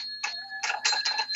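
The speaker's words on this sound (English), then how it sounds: "you can hear the old sound of the bells" Bells of an old hand-crank party-line telephone ring in short metallic bursts, close and bright, with a sustained ringing tone between the strikes.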